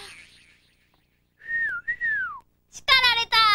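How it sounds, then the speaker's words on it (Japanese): A boy whistles a few wavering, sliding tones by mouth at night, then a brief burst of higher, rapid whistling; quiet pauses between phrases, no talking. "夜中に口笛吹くのもダメ"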